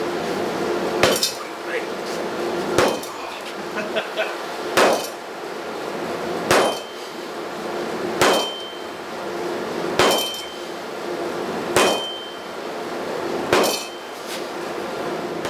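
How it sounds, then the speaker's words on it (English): Heavy 30-pound sledgehammer blows on hot steel over a 66-pound VEVOR anvil while upsetting a tool shoulder, eight loud ringing strikes spaced about two seconds apart in a steady rhythm, close and without talk. "If you want to make the upsetting process go a little faster, you can use a sledgehammer."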